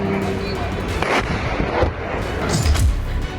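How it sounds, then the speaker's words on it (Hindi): Killer drone strikes slamming into buildings in Kazan, Russia, heard as a dense run of loud blasts and booming impacts, several heavy thuds near the middle and end over continuous rumbling noise. "अलग अलग दिशाओं से आ रहे किलर ड्रोन हवा में ही इमारतों से टकरा"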